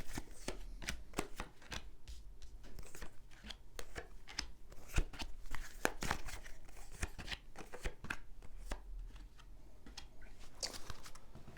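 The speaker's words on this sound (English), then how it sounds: "I'm going to lay down your 10 cards on the table" Tarot cards laid down one by one on a table during a reading, giving a quiet run of soft slaps, slides and shuffling rustles in an irregular rhythm, close to the microphone, with no talk over them.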